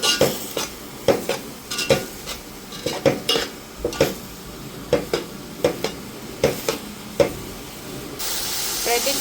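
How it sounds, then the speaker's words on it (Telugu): Leafy greens frying in a pan at home, heard as repeated metal clinks and scrapes of a utensil stirring against cookware, with a soft background sizzle and no talk. "ఇప్పుడైతే చక్కగా ఆకుకూర ఫ్రై చేసుకుంటున్నాం మనం"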